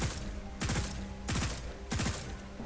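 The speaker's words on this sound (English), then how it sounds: "That's a pretty tight burst, I'd say, for a pulse rifle." A pulse rifle in Destiny 2 fires four tight bursts, each a quick cluster of punchy shots spaced about two thirds of a second apart, crisp and close with a faint ringing tail and no talk.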